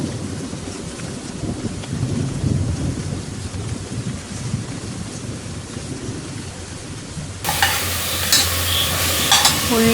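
Onions sautéing in hot coconut oil for a Kochi-style snack: a continuous crackling sizzle with stirring that grows brighter and louder near the end.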